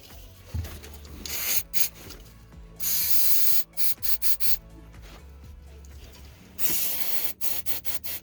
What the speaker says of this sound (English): A little electrical cleaner here.